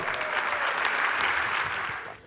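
Steady audience applause fills a hall at a film festival opening ceremony in Istanbul, loud and dense throughout before fading at the end.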